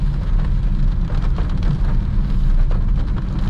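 Heavy morning rain drums steadily on a manual car while driving, with wipers set to the first level, making a dense, loud, continuous wash of noise inside the cabin with no speech.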